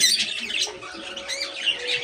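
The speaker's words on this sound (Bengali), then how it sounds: "এখানে হচ্ছে আমাদের পাখিগুলো আছে, ওদের সবাইকে আমি স্প্রে দিয়ে গোসল করাইছি মাত্র।" Pet birds, cockatiels among them, freshly sprayed with water for a bath, give off a busy stream of chirps and squawks, mid-loud and close by, with no voices.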